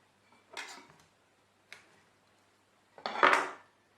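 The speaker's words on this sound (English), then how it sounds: "And our black pudding, I'll cut it into 4." A knife cutting black pudding into four pieces on a board for a full English breakfast pie, giving three separate dull chopping knocks, the last one heaviest, in an otherwise quiet kitchen.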